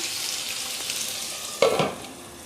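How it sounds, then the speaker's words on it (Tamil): Omelette ingredients sautéing in a pan for a continental egg omelette, a steady close sizzle with a brief stir or clatter near the end, no speech. "இப்போதைக்கு நம்ம அப்படியே வதக்கி விடலாம்"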